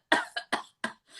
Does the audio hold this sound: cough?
yes